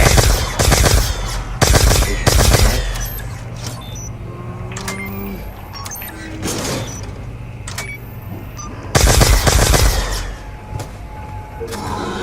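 Gunfire in Call of Duty zombies on the Buried map: several loud bursts of rapid shots separated by quieter stretches of game effects and clatter.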